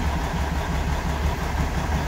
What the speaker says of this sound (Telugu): ఇదండి బండి ఇంజిన్.